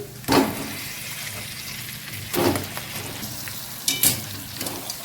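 Fish pieces dropped into a hot pan with turmeric and fried spices, giving three bursts of hissing sizzle over a steady frying crackle.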